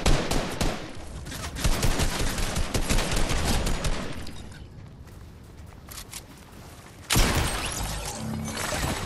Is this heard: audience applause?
no